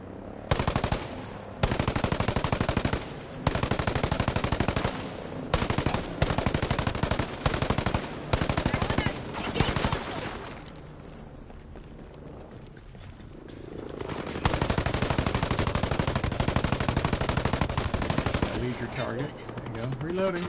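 Automatic gunfire in the Ghost Recon Breakpoint game rattles in loud, repeated bursts, pauses for a quieter stretch, then resumes as sustained rapid fire that runs to the end.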